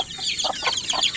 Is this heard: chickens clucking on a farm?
yes